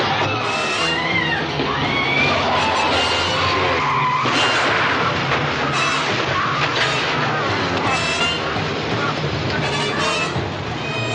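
Car tires skidding and squealing in a monster-versus-car action scene from The Norliss Tapes, loud and sustained for over ten seconds with engine noise and a dense film soundtrack underneath.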